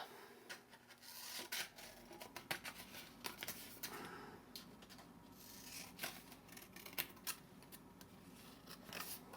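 Scissors snip through folded paper while cutting cells for a handmade paper rose, a steady series of close, crisp cutting and rustling sounds with no talking.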